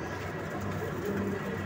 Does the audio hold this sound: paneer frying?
no